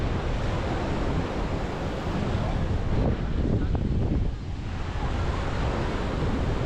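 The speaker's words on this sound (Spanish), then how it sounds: "Hace airecito" A breeze gusts across a microphone on a beach where a little sargassum is washing in, with surf rumbling steadily underneath.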